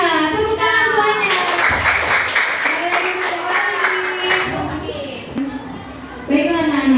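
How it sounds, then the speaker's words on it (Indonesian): Children clap their hands together in a class, a few seconds of dense, busy clapping mixed with loud, excited young voices. "Tepuk tangan semuanya."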